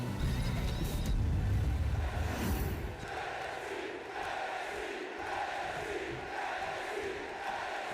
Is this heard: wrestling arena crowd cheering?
yes